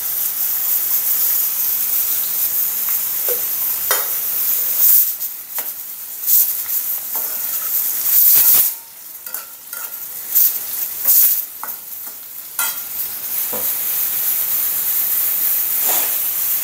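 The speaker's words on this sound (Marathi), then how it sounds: "ही कारली आता छान अशी ह्याच्या तेलावर चांगली परतून घेते." Bitter gourd sautés in oil with a crackling sizzle that rises and falls as it is stirred, punctuated by sharp utensil scrapes and brief quieter gaps, close-up and without speech.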